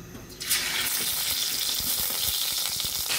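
Hilsa fish drop into hot white oil in a pan, and a sudden loud, close hiss erupts about half a second in and then holds as a dense, crackling fry with scattered pops, no talking.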